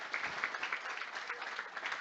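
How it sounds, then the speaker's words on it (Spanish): Dense, steady applause from an audience at a talk, a continuous wash of many hands clapping at moderate distance, with no break across the short stretch. "Un aplauso para José Antonio."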